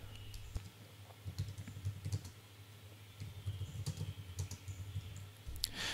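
Typing a version name on a computer keyboard in CAD software: light, irregular key clicks in short clusters, close and fairly quiet, with occasional sharper taps.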